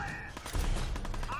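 Gunfire in the Fallout 4 video game, a dense burst of rapid shots layered over game effects and a voice talking throughout.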